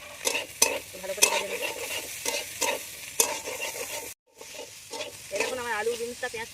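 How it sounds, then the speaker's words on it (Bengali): Boiled potatoes frying with onion and green chili in a pan, busy rhythmic scraping and stirring over a loud sizzle, with a short silent gap partway through, no speech. "এবার আমি পেঁয়াজ কাঁচা লঙ্কাটা দিয়ে দেবো"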